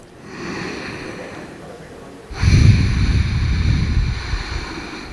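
A person in a yoga pose takes slow, deep breaths, close and audible: a soft inhale, then a stronger, rushing exhale.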